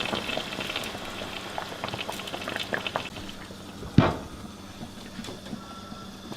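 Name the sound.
beef shank broth boiling in a pot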